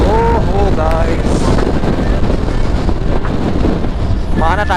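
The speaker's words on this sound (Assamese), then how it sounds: "বতাহটো পুৰা মাৰি আছে" Strong wind buffets a microphone on a Hero XPulse 200 motorcycle at high speed on the road from Itanagar to Gohpur, a loud, continuous roar of wind noise with engine drone beneath and a voice talking briefly at the start and end.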